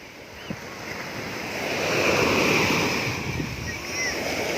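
Waves break and wash onto Khae Khae beach on the Gulf of Thailand in monsoon season, a broad roaring surf swelling and easing under steady wind buffeting the microphone.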